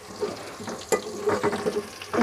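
Green garlic frying in a pan with light-brown onions, with a steady sizzle broken by several short stirring scrapes and one sharp clink, close by and fairly loud.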